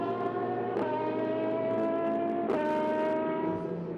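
A race car engine at the Qatar 1812km endurance race howls steadily for four seconds, its pitch sliding gradually lower with two sharp shifts or blips along the way, heard loud and continuous from trackside.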